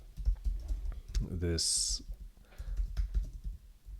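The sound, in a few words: typing on a computer keyboard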